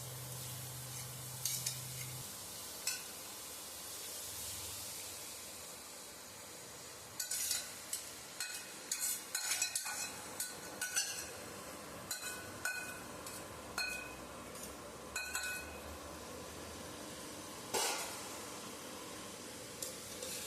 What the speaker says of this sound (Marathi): तूप आपलं गरम झालं आहे. आपण हे गाजर टाकून घेऊया.